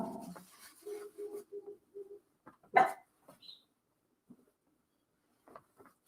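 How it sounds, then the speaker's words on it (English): A dog barks in a short run of evenly spaced woofs, moderately close, followed by a few scattered knocks and quiet gaps. "have a barking dog."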